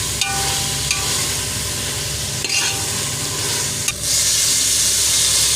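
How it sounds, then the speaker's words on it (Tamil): Masala frying in oil as it is sautéed and stirred for a soya chunk (meal maker) biryani, with a steady close sizzle and a few scraping stirs of a spatula against the pan, no talking. "மசாலாவை நல்லா வதக்கிக்கலாம்."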